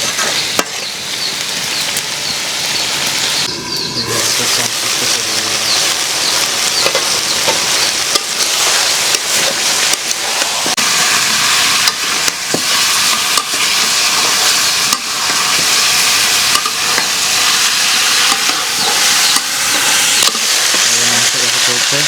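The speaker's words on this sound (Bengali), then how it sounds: "মাংস কষা চলছে।" Chicken pieces sauté in a pot over a clay stove, a steady loud sizzle and frying hiss running continuously, with occasional stirring scrapes.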